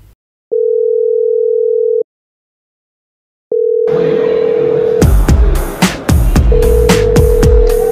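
A telephone dial tone sounds in long, steady beeps separated by pauses, then continues under clattering knocks and clicks.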